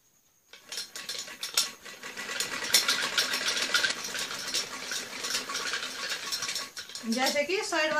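A sewing machine stitches the side seam of a pair of trousers, starting after a brief silence and running in a fast, loud mechanical clatter. It pauses briefly near the end, then resumes.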